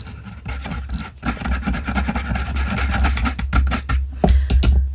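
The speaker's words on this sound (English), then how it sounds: "things like baking soda and baking powder through a wire mesh strainer just to make sure I don't end up with any clumps" Baking powder rubbed through a wire mesh strainer, a continuous close scratchy rasping that scrubs back and forth steadily and grows slightly louder near the end, with no talking.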